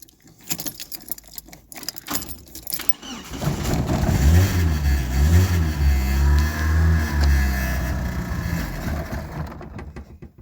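Volkswagen Golf Mk1 carburettor engine cranking with a few clicks and rattles, then catching and firing into a rough, loud idle that rises and falls in revs, with a choke partly pulled after an air lock in the float bowl.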